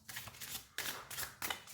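Tarot cards being shuffled and drawn by hand, three quick crisp riffling bursts close up, quiet and without talk.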